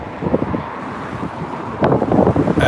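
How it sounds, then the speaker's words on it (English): Strong outdoor wind in Edinburgh buffets the microphone with loud, rumbling gusts and thumps that swell sharply near the end, with faint distant traffic beneath and no speech. "It's very windy, that's the problem, you guys are probably hearing it, right?"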